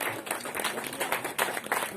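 Loud, dense applause from a crowd at a DXN networking event in Munnar, many hands clapping fast and close without a pause.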